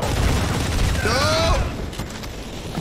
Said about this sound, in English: I can't even see what the heck I'm shooting.